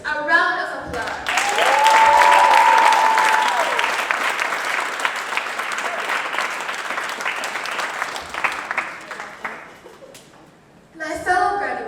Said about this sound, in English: Can everybody give our teachers a round of applause?